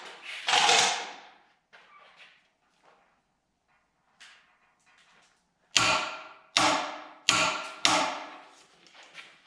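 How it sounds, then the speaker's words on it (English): Torque wrench clicks and metallic tool sounds while tightening a bolt on a 1966 Corvette front suspension, with a few sharp, distinct clicks in close succession after quieter handling noises. "This bolt here gets torqued 130 foot-pounds."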